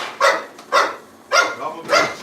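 Dogs bark in four loud, evenly spaced bursts, close by, with no talk over them.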